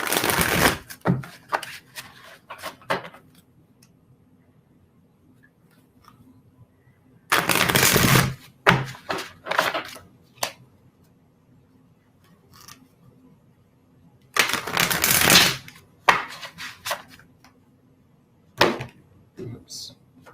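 Short bursts of tarot cards being shuffled, several riffles separated by long quiet gaps, with softer handling noises between them.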